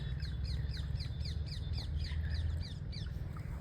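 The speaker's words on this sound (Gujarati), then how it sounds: "પોપટ તો પેલા લીમડામાં બેઠા બેઠા ત્યાં ત્યાં ત્યાં કરે" Parrots call from a neem tree in a village: a quick series of sharp, repeated chirping calls. A steady low hum sits underneath and the calls sound moderately distant.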